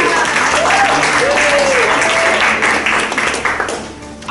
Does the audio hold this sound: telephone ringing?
no